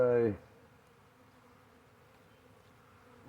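A honey bee swarm clustered in a ball inside a hive box holds a steady low buzzing drone throughout, with a brief louder burst at the start and no talk over it.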